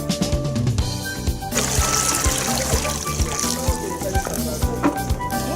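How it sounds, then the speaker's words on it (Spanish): Water drains straight down through a basin at an equator museum demonstration, a close gurgling trickle and pour with splashy bursts, steady and fairly loud. "aquí el agua no gira, que el agua cae perpendicularmente"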